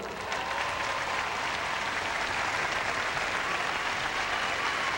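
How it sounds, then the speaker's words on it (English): A crowd at the 2002 Commonwealth Games gymnastics applauds a men's pommel horse medalist from Australia, with dense, even clapping filling the arena throughout. "Good applause, plenty of Australians as ever in the crowd."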